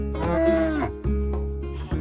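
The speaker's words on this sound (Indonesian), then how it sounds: "aku dikejutkan dengan 2 sapi yang tiba-tiba spawn" Two cows moo in a Minecraft-style block game, a long drawn-out bovine call followed by shorter lowing bursts, loud and close with no talk over them.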